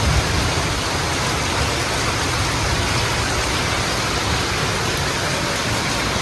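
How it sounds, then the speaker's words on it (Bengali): Heavy rain pours down steadily around a house where drain water has flooded in and pooled, a loud, dense, unbroken hiss with no voices. "এত বৃষ্টি হচ্ছে।"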